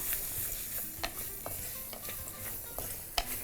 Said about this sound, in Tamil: இதையும் போட்டு நல்லா வதக்கிப்போம்.